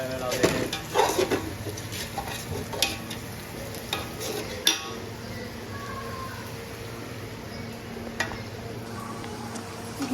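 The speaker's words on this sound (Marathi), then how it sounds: "मॅरिनेट केलेले सोयाबीन टाकल्यात आपण सोयाबीनचं आता ते मिक्स होतील वाटण्यामध्ये" Marinated soybeans frying and being stirred into a ground masala paste, with a steady close sizzle and scraping stir strokes, the stirring busiest early on, and faint voices in the background.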